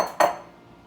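A mixing bowl for vegan brownie batter set down on a kitchen counter, one clear ceramic clunk with a short ringing tail, close and alone.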